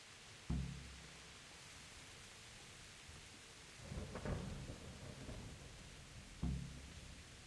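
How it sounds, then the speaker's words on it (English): Steady rain hisses throughout in Kingdom Come: Deliverance, broken by three deep thunder rumbles, sharp low cracks near the start and end with a longer rolling one in the middle, no voices. "Am I supposed to be walking out in the middle of the fucking rain?"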